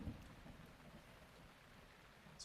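A thunderstorm in Breath of the Wild brings faint, steady rainfall with a low thunder rumble near the start, a quiet continuous wash with no speech.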